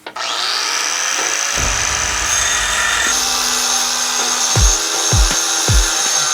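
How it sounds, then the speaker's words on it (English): An angle grinder whines steadily while cutting a steel turbo flange from a diesel Mercedes, loud and close, with a few sharp thumps and pitch dips near the end as pressure shifts; no speech. "the angle grinder wobbles when you put a little bit of pressure on it"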